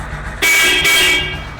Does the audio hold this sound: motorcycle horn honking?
yes